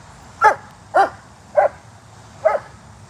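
Puppy barking at play, four short high yaps spaced about half a second to a second apart, close and clear over a quiet background.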